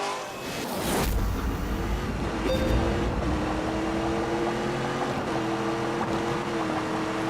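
Engine of a Camaro tuned by Hennessy to 1,000 horsepower, otherwise standard, roaring steadily at close range as a continuous dense drone with rising harmonic tones that settle into a sustained loud pull.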